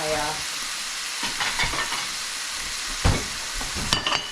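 Meat browning in a hot pan for a burrito bake, a continuous close sizzle and hiss broken by a few scrapes and stirs, with no talking over it.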